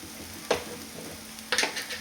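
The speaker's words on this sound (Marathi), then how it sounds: "तर आता मी याच्यामध्ये थोडंसं तूप ॲड करते" Ghee crackles and sizzles in a hot pan of sabudana khichdi, with two short bursts of frying hiss as the mix is stirred, close and fairly quiet.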